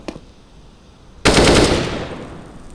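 Counter-Strike gunfire through a wall on the Mirage map: after a faint early shot, a loud sustained automatic burst starts suddenly and its echo slowly decays.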